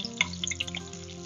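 Squid calamari frying in oil in a pan, a soft steady sizzle with scattered small pops and crackles, heard close and alone without talk.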